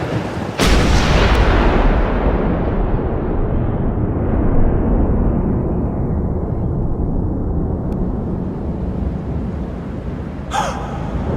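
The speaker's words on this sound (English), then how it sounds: "Gunfire!" Gunfire in the video game Max Payne 2 opens with a sharp crack and roars on as a dense, continuous, booming barrage for several seconds. It fades slightly toward the end, where a brief rasping burst cuts in.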